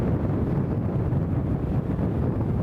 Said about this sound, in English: That wind is killing it.